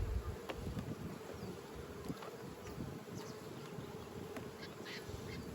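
Honeybees buzz steadily around a flow-frame hive, a dense continuous drone with a few sharper passing buzzes close by.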